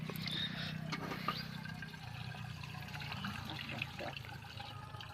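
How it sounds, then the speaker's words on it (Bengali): Water running and splashing into a fuel-driven pump machine out in a field, a soft continuous gushing with a low hum underneath and occasional faint knocks, fairly quiet throughout. "এই যে মেশিনে জল ভরা হচ্ছে।"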